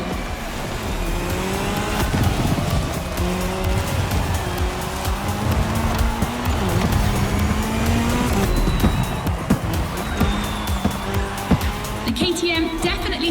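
A KTM motorcycle and a Puma car race in The Crew Motorfest, with loud roaring engines, shifting revs and repeated tire squeals and skids throughout.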